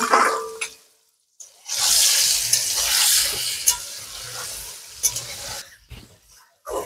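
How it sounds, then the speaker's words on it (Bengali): Turmeric- and salt-coated potato pieces frying in hot oil, a broad sizzle that swells loudly after a brief quiet gap, with stirring scrapes and small pops, then dips and returns near the end. "এবার আমি আলুগুলো ভেজে নেব।"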